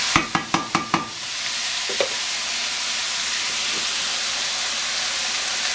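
Ground beef browns in a pan: a few quick sharp clanks of a utensil open, then a steady, fairly loud hiss of sizzling fat carries on alone to the end.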